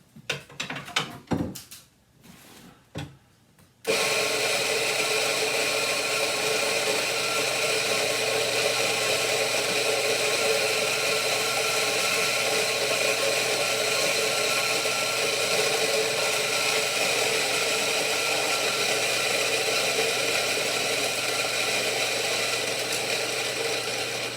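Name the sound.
coffee grinder grinding 40 grams of coffee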